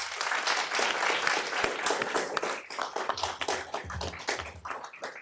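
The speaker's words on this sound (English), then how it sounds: "another round of applause" An audience at a city council meeting claps in a brisk round of applause, dense at first and thinning into scattered individual claps toward the end, with a few low thumps.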